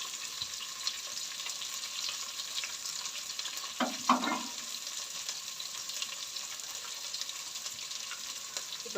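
Onion and carrot stir-frying in a pan for veg noodles, a quiet steady sizzle throughout with a brief clatter of stirring near the middle.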